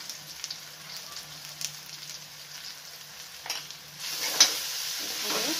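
Turmeric and chili powder are stirred into frying vegetables for a vegetable chaat, a faint, soft sizzle with light stirring scrapes that grows a little louder near the end.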